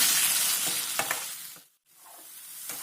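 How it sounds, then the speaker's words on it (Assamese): Potatoes fry together with spiced meat in a pan, giving a steady close sizzle with a few stirring scrapes, broken by a brief pause of near silence before the frying resumes. "আমি আলুখিনি মাংসৰ লগত ভালকৈ ভাজি ল'ম"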